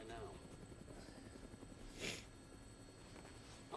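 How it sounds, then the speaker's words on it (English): A helicopter flies in the video game Dead Rising, a steady mid-level rotor drone with a brief louder swell partway through, running continuously under the game's background sound. "Looks like taking a helicopter was the way to go."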